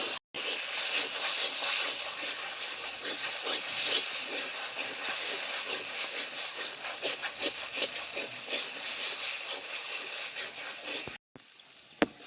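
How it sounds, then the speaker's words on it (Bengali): A spice paste fries with gondhoraj lemon leaves for a cauliflower dish, giving a continuous loud sizzle with rhythmic scraping of a spatula, then a sudden quieter stretch and a sharp knock at the end. "এই পাতাগুলো দিয়ে মশলাটা ভালো করে কষতে থাকবো।"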